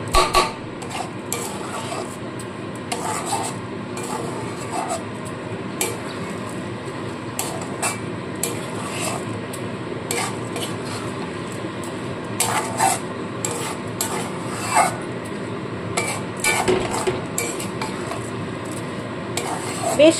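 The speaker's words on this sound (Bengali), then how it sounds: "একদম লো ফ্লেমে আমি চালটাকে মশলার সাথে ভেজে নেব" Gobindobhog rice stirred and fried with spices on a low flame, a steady rhythmic scraping and rubbing of a spoon against the pot with frequent clinks, close and continuous for the whole stretch.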